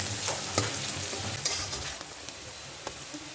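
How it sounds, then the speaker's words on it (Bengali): Half a cup of chopped onion fries in oil in a wok, giving a steady close sizzle with scattered scraping stir strokes and small crackles. "এবার আমি কড়াইতে তেলের মধ্যে দিয়ে দিলাম আধা কাপ পরিমাণ পেঁয়াজ কুচি দিয়ে আমি ভাজা ভাজা করে নিচ্ছি"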